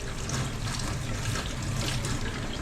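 Chili peppers are rinsed under a running kitchen tap, a steady, loud rush and splatter of water continuing throughout.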